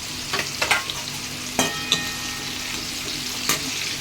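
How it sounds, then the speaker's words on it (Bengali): Papaya pieces frying in oil in a pan, a steady close sizzle with a few sharp scrapes of a spatula stirring them, no talk. "পেঁপেগুলো আমি লাল লাল করে ভেজে নিই।"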